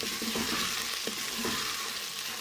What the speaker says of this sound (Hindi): तेज़ आंच पे पकाएंगे हम भिंडी को